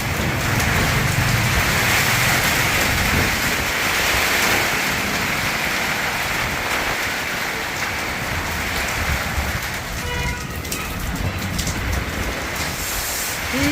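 Stormy rain with strong wind, a thick, unbroken roar of downpour and gusting air, slightly easing toward the end, with a faint brief knock near the tail.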